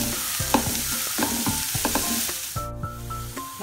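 Onions sautéing in a pan for a Kerala clam roast (kakka ularthiyathu): loud close sizzling with clinks and scrapes of a spoon stirring, no voices.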